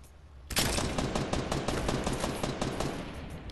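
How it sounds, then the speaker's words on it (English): Gunfire rattles in a Fortnite match, a sudden onset of dense, rapid automatic shots that continues loud and unbroken for several seconds with no talk over it. "Yep, they're firing at me north."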